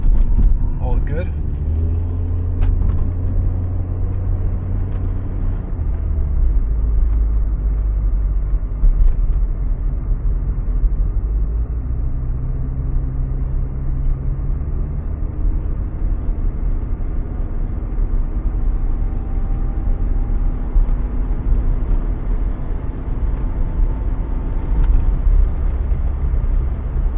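A 1991 VW Golf 2 with a 1.8-litre 90 hp engine and three-speed automatic drives at night, its engine humming and shifting pitch through gear changes under continuous talk, with road rumble throughout.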